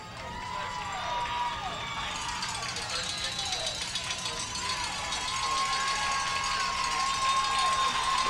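Football crowd at a high school game, Shelby Valley against Prestonsburg, roaring steadily as a Wildcats lineman stirs the stands near halftime. Dense, continuous cheering and crowd noise with whistles, under commentators' voices throughout.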